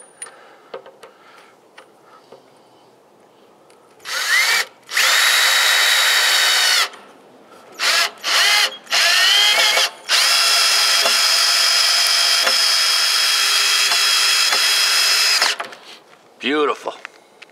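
A power drill drives screws into the board of a wooden raised garden bed, with a short burst followed by several longer loud whirring runs, the last one sustained for about five seconds, set between quiet pauses.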